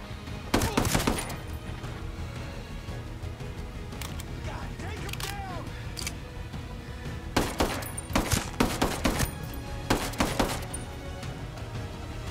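Gunshots crack out in Ghost Recon, sharp single reports and short clusters spread across the stretch, some near and loud, with a player talking in between.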